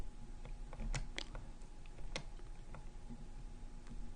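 Quiet typing on a computer keyboard, with scattered key clicks and a few sharper taps over a steady low hum.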